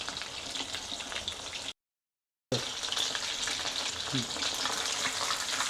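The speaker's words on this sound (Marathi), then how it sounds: "सारी कंटकी आपल्याला अशीच तळून घ्यायची आहे आता." Chicken Kentucky pieces deep fry in hot oil, giving a steady, fairly quiet crackling sizzle that drops out briefly for under a second before resuming just as before.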